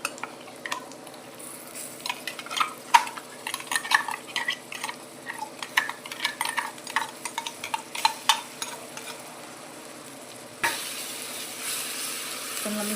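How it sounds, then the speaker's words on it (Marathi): A spoon scrapes and stirs spice paste with pav bhaji masala and cumin in a hot pan for dal, giving rapid close stirring strokes over a constant sizzle that swells into louder frying near the end. "चांगलं मिक्स करून घ्यायचं"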